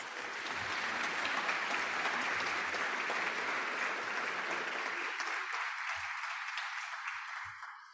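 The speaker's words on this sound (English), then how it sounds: "let's give them a round of applause" Steady applause from members at a business meeting welcoming new board members, a dense, even wash of many hands that fades out near the end.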